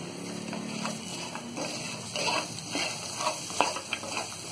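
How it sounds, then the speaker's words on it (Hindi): Powdered spices roasting in a pan for murmura namkeen, a soft steady sizzle with scraping stirs and light utensil taps against the pan, close, with no talking. "थोड़ी देर इसे भी हम भून लेंगे"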